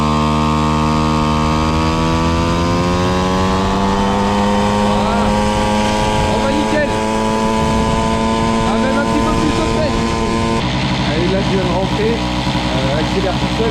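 A Peugeot 103 moped engine runs and accelerates on its own while the fuel is shut off and the carburetor bowl drains, giving a steady close buzz whose pitch climbs then holds, with someone talking over it.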